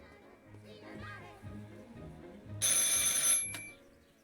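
An old telephone bell rings in the video game Martha is Dead, a loud metallic burst after background game sounds and faint voices.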